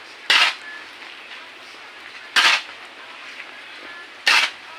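A metal utensil scrapes and clanks against a cooking pot while food is stirred, three distinct loud knocks spaced roughly two seconds apart over a low steady background hiss.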